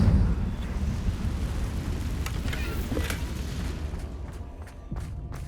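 A Confringo fire spell explodes in Hogwarts Legacy, a deep rumbling boom swelling at the start and rolling on as a low, sustained roar with faint crackles.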